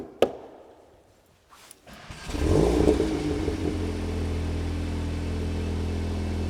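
A VW Golf R Mk8 with a new exhaust starts with a sharp click and a short pause, then its engine surges up loudly into a sustained, steady rev close by on a dyno.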